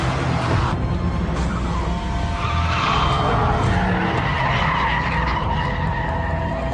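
Mitsubishi Lancer Evolution tires skid and squeal under a strained engine, a loud continuous scrubbing howl close by with shifting pitch over several seconds.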